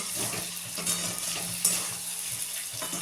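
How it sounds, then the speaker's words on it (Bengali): Chow mein noodles fry and get stirred in a pan, giving a steady close sizzle with scraping stir strokes and light clinks throughout, with no voices. "এখন চাউমিনটা ফ্রাই করবো"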